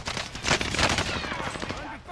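Call of Duty Modern Warfare gunfire comes as dense overlapping bursts of rapid shots in a busy mix, loud and close, with some speech-like sound mixed in.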